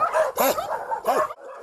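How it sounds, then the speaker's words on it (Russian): Dogs at an animal shelter bark loudly and close by in two sharp bursts, with yelping and whimpering between them. The dogs are hungry and short of food. "Воют, скулят, а завидя человека, начинают громко лаять."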